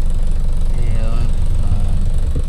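A Barako 175 motorcycle engine idles nearby in a steady, loud, low rumble that holds without a break.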